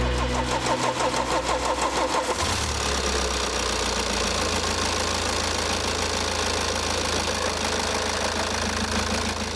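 A fully rebuilt car engine runs steadily and loudly in a workshop, with a rhythmic mechanical clatter and a shift in tone a couple of seconds in.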